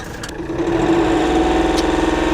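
A tractor engine runs steadily at close range with a constant mechanical hum and a buzzy vibration throughout. No one talks.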